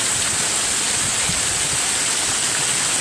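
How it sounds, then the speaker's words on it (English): Heavy rain pours down in a severe thunderstorm, a constant broadband hiss and patter that stays loud and even throughout, with no one talking. "It's like a tropical storm."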